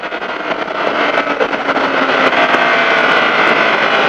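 Kawasaki Z750 motorcycle ridden on a race circuit at Bresse, a loud continuous engine and wind roar that swells slightly as the bike moves along.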